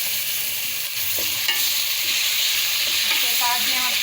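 Garlic-ginger paste hitting light-pink fried onions and cumin in a pan while making potato rice, a dense, continuous sizzle and crackle with occasional stirring scrapes, close and steady.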